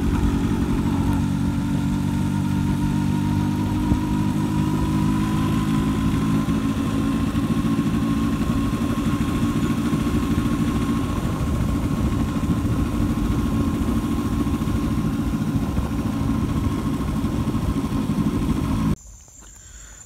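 A motorcycle engine runs steadily and loudly up close, a continuous rumbling idle with a constant tone that cuts off abruptly near the end.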